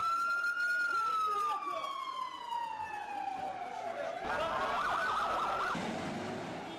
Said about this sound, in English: Now I hear the ambulances running.